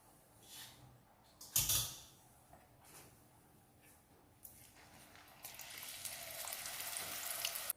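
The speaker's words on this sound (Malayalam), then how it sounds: "പൊന്തൻകായ കൊണ്ടുള്ള ചിപ്സ് ആദ്യത്തേത് നമ്മൾ കോരി എടുത്തിട്ടുണ്ട്. ബാക്കി നമുക്ക് ഇതുപോലെ വറുത്തെടുക്കാം." Plantain chips frying in hot oil, a faint soft sizzle with occasional clinks and scrapes of a utensil, building into a louder, steady bubbling hiss toward the end.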